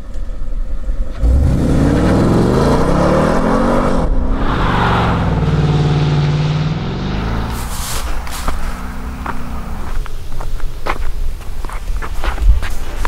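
A Ford Mustang Fastback revs up loudly nearby, its engine note rising and falling in strong sweeps for several seconds before easing off into lighter rumbling and scattered clatter, outdoors at Bezděz castle.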